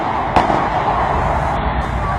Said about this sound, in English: Then there was gunfire that was heard.